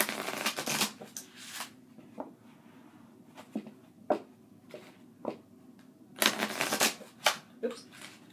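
Tarot cards being shuffled and handled in bursts of crisp riffling and flicking, loudest at the start and again near the end, with softer single card snaps between them.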